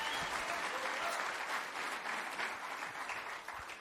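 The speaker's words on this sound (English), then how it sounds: "How about another round of applause for great talk?" An audience at a talk bursts into steady, dense applause that carries on without a break for about four seconds.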